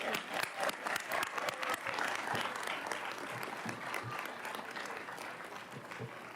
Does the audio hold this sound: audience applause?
yes